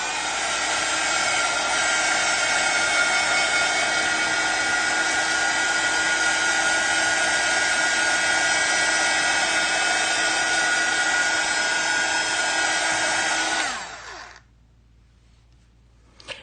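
A hair dryer runs steadily for about fourteen seconds, drying a craft project made with Stamperia products. It gives a loud, constant whirring whine, then cuts off abruptly, leaving near silence.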